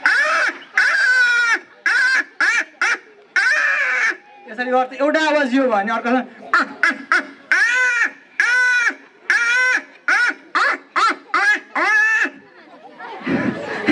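A man imitates crow calls with a run of short, harsh, repeated caws in choppy bursts separated by brief gaps, and some spoken words are mixed between them.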